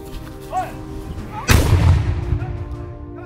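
A colonial-era cannon fires at the Williamsburg powder magazine: one loud, close boom lands abruptly and rolls off into a long, rumbling outdoor decay over a faint background murmur.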